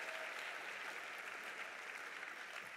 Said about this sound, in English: So let's give it one more round of applause for Chelsea for that amazing testimonial.